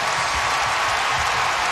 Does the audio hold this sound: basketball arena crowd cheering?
yes